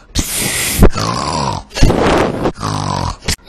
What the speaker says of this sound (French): La grand-mère ne peut pas ronfler si fort.